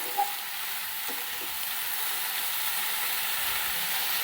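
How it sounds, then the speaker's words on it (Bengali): Eggplant, potato and radish being stir-fried in a pan give a steady, even sizzle throughout, with a few faint scrapes of stirring near the start and no talking. "এটাকে এবার নাড়াচাড়া করে ভালো করে আমি একটু ভাজা ভাজা করে নেবো"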